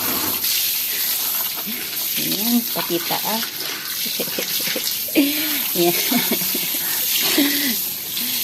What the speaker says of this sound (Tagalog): Namiss ko rin yung ganitong trabaho ang pagdidilig ng mga halaman.